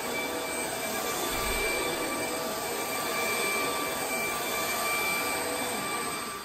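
A Hoover Vortex Pro stick vacuum runs on high power over shaggy carpet, giving a loud, steady motor whine with high tonal hum that holds throughout and eases slightly at the end.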